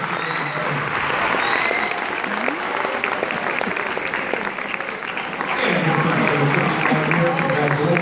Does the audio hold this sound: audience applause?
yes